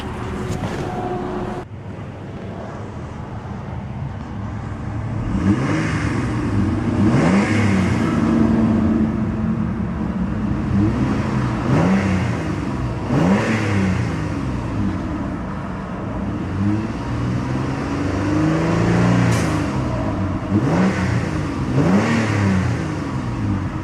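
A 2007 Mitsubishi Galant GTS with a 3.8 engine is revved repeatedly, the exhaust note rising and falling in several swells, close by with some wind noise on the microphone.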